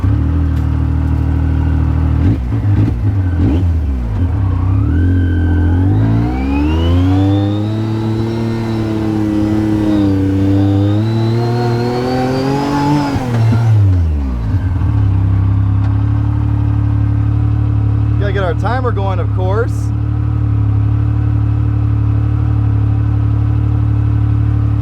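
A Yamaha YXZ side-by-side drives a lap around a yard, its engine revving up and down in long sweeping pulls, then settling to a steady drone with a brief high whine near the end, loud and close throughout.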